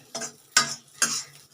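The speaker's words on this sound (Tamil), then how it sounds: "இந்த திராட்சையும் இதிலே போட்டுக்கலாங்க. நம்ம அதையும் கொஞ்சம் இது கூடவே வறுத்துக்கலாம்." Raisins roast with rava mixture in a kadai over a low flame, heard as three quiet, close scraping stirs with soft pauses between them.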